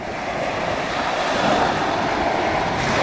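Ocean surf washes onto the shore at Long Beach in a steady broad roar, with wind rushing over the microphone, loud and unbroken for the whole stretch, with no voices.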